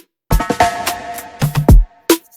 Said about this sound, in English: Then I just added these, these Rastafarian drum fills.